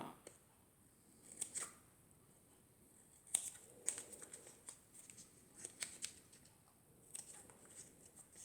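Scissors cutting through a craft foam sheet for a foam bow and flower, a quiet series of scattered crisp snips and rustles spread over several seconds, with soft background noise between cuts.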